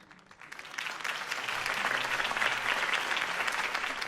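Crowd applause after a campaign speech in Batman: The Telltale Series video game, a steady wash of clapping that swells after the first second and holds, no talk over it.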